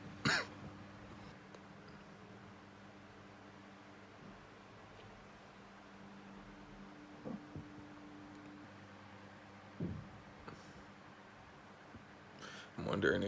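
A person with an ongoing cough gives a few separate coughs and throat clears, close but fairly quiet, spread across about thirteen seconds over a faint steady hum.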